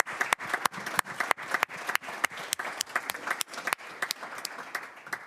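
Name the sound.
applause at board meeting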